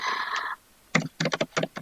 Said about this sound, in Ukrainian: Я просто друкую з клавіатури зараз